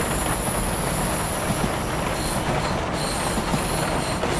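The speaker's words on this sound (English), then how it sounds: "at which point I can then idle the power to allow the train to coast" A 103 Series EMU train coasts with power idled in Train Simulator 2017 on a Japanese route from Sakurai to Gojo. It gives a loud, steady rumble of rolling wheels on rails with a faint high whine or squeal above it.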